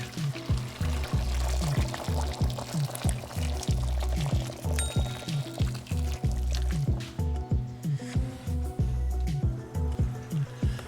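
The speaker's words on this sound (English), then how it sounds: "Time to add 2 cups of warm water into the pork" Two cups of warm water pour steadily into a pot of Jamaican brown stew pork, gurgling and splashing in a fast, uneven rhythm, close by and fairly loud throughout.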